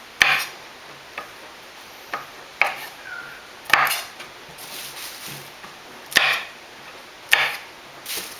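A knife trims the stringy ends off green beans on a cutting board, giving a series of sharp, separate chops and taps at an uneven rhythm, close up, with no talking.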